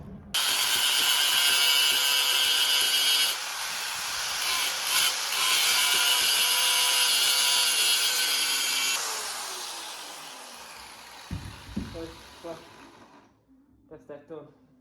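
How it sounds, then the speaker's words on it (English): An angle grinder polishes the edges of a rusty exhaust pipe on a Toyota Corolla, giving a loud, steady, high whine for about nine seconds that winds down, followed by a few metallic clanks. "I'm going to just give it a fine polish around the edges with the thick cutting grit for the grinder"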